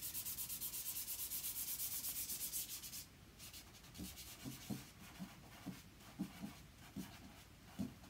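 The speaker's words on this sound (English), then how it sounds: "It's just rubbing it in with my fingers" Fingers rubbing charcoal into a paper drawing, a soft continuous scratchy hiss at first, then quieter rhythmic strokes with faint taps, close and intimate, no talking.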